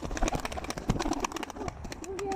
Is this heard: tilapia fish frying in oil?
no